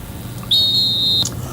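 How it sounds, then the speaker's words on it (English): A single sharp whistle blast, held for under a second, rings out on a Nigerian FM radio show against a quiet background. "It's time for us to blow the final whistle on the show this morning."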